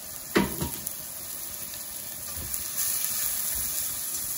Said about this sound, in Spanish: Vamos a dejarlo a fuego suavecito que se vaya sofriendo